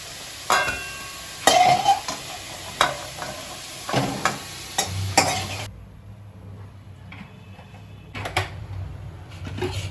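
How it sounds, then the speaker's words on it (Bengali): Potatoes frying in hot oil in a pan for a spicy dried lote fish dish, with a steady sizzle broken by repeated sharp clinks of a spatula stirring and lifting them out, the sizzle dropping away near the end. "এবার আলুটা আমার দেখুন এই যে ভাজা হয়ে গেছে, এরকমভাবে ভেজে আমি তুলে নিচ্ছি"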